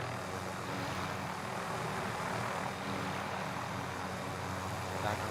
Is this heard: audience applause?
no